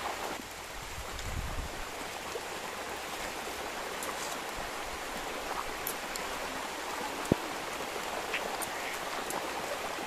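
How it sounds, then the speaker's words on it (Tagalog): Light rain falls outdoors, not very heavy, a faint, steady hiss of drops throughout with one brief sharp knock partway through. "Kasalukuyan, umuulan. Pero hindi naman masyadong malakas, pero nakakabasa."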